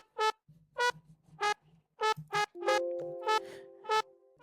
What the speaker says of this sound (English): I can change it from a mini piano to like a brass sound like this one